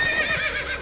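Roach, a horse in The Witcher 3, gives a close, loud whinny with a rising and falling tonal neigh that fills the short moment on its own.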